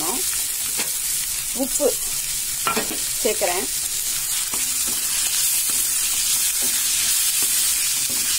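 Tomato sautéing in a pan for prawn gravy, a constant close sizzle with rhythmic scraping stirs of a spoon; a voice briefly speaks over it.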